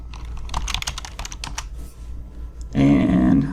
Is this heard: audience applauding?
no